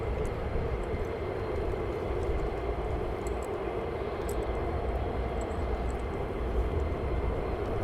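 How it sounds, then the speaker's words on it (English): Two F-35 fighter jets approaching RAF Lakenheath, a steady loud broadband engine roar that holds evenly throughout, with no voices. "And 2F35s coming in from behind you"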